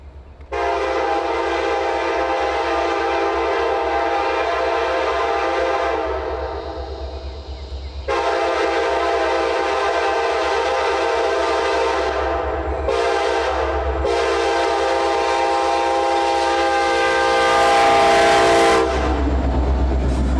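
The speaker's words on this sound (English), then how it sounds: "A trio of Southern Bell locomotives lead the charge" Freight train led by three Southern Belle locomotives, an SD70ACE in front, roaring past loud and close with sustained horn blasts, a brief break in the middle and rolling wagon noise toward the end.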